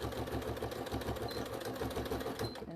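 A sewing machine runs steadily close up, its rapid rhythmic needle chatter stitching back and forth at the start of a seam on a small fabric bag, with no voices over it.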